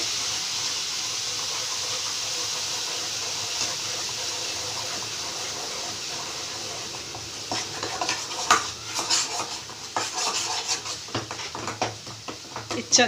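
Masala spices frying in oil in a pan for chicken keema curry: a constant close sizzle, later joined by quick clattering stirring and scraping against the pan.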